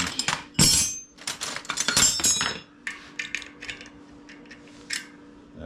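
Metal cone wrenches clink and clatter in short irregular bursts, close and fairly loud, on a workbench while a 1973 Schwinn Hollywood bicycle is serviced; no talk is heard.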